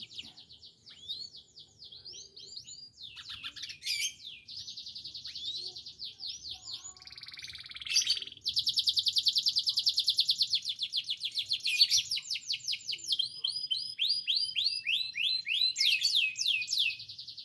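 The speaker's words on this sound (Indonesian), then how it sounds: "kita juga nikmatin nih kicauan ini nih kenari" Canary singing up close in long bright runs of rapid trills and whistled chirps, loud and continuous with brief pauses between phrases.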